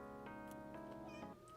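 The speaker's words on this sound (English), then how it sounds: "Why are you meowing at me?" A pet cat meows close by, a few short, insistent calls that end in a rising cry, all over a steady humming background tone.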